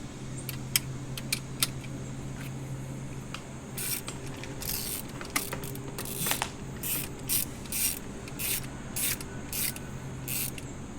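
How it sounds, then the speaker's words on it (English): A ratchet clicks in short bursts as 12mm bolts holding the fuel rail on a first-generation Toyota Tacoma are loosened, with sharp, close pawl ticks under a low steady hum. "going to want to undo the two 12mm bolts holding down the fuel rail"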